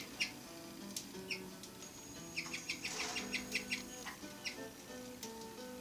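A flock of roller canaries chirps and trills close by in a busy, overlapping chorus of quick, bright notes that rise into a dense burst midway.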